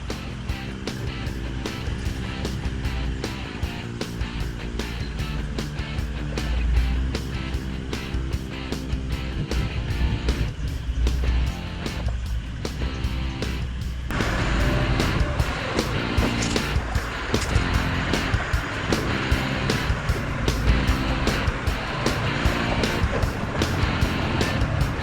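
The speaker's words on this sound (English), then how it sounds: "we'll go back down and check out the waterfall" Ellenborough Falls roars in flood, a loud, continuous broadband rush of water with rapid clicking and rustling handling noise throughout.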